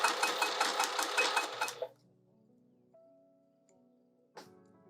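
A domestic sewing machine, not a free-arm cylinder model, runs in a quick, steady burst while stitching a wide-open pouch. It then stops abruptly, leaving quiet with a faint tone and a brief click near the end.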